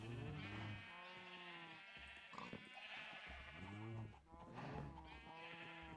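Repeated sheep bleats from a video game, a sheep being approached with shears, sounding close and fairly loud over a game soundscape, several drawn-out calls in a row.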